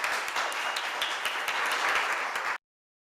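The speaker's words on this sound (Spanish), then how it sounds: "Aplausos para Lisette, por favor." Audience applause fills the room in a dense, even burst of clapping that lasts about two and a half seconds and then cuts off abruptly to silence.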